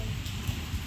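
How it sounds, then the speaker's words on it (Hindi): Heavy monsoon rain falls steadily in a continuous broadband wash, close and fairly loud with no pauses, and no voices are heard. "अभी थोड़ा ज़ोर से बारिश हो रही है"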